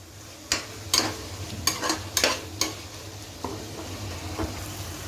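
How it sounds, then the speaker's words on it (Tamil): Tomatoes sautéing in oil for a raw jackfruit biryani masala, a soft continuous sizzle broken by several sharp spoon-scraping stirs against the pan, close and moderately loud with no talking. "இந்த தக்காளியும் இதோடு சேர்ந்து நல்லா வதங்கணும்"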